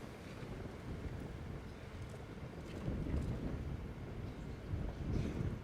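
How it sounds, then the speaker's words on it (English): Strong wind gusts buffet the microphone at an outdoor tennis match, a steady low roar that swells louder near the middle and again at the end, with no voices heard. "Another huge gust."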